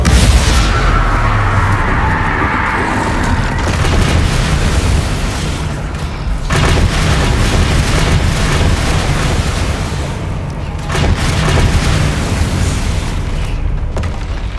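Spell explosions in Hogwarts Legacy combat, a fire blast and a burning curse, make loud continuous booming bursts and crackling roars that rise and surge across the whole stretch without any talk.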